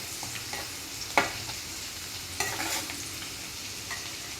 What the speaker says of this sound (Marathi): आता यामध्ये मी लसूण आणि जिरे अद्रकची पेस्ट टाकून घेते